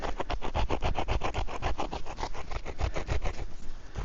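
A wooden bow-drill spindle rubbed against a rock in fast, steady back-and-forth grinding strokes, close and continuous, about five scrapes per second with no voices.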